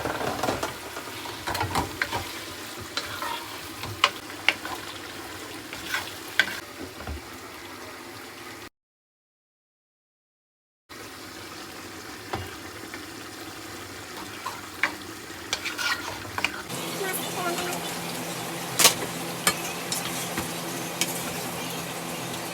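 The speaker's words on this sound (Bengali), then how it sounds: "এখানে সাতকরা দিয়ে ছোটো মাছ রান্না করছি।" Small fish cooking with satkora citrus in a pan, a close steady sizzle with repeated scraping stirs, broken by a brief total silence before the frying and stirring resume more intensely.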